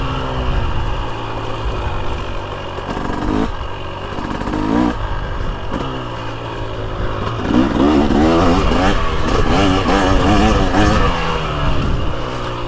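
A 2023 Husqvarna TX300 dirt bike with WP Pro Components cone valve forks climbs uphill through a woods section, its two-stroke engine buzzing loudly throughout and revving harder in the second half.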